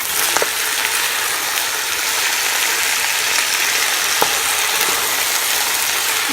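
Chicken coated in dry masala frying in coconut oil, a loud, steady hiss and crackle of sizzling close up, with occasional clicks of stirring, and no talking.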